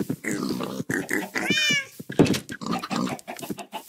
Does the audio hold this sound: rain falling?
no